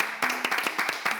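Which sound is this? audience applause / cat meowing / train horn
audience applause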